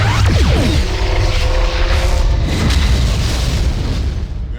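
Heavy booming weapon blasts from Klingon disruptors in the Star Trek Klingon Academy space combat game, a loud burst of deep rumbling explosions with sweeping tones that trails off over a few seconds.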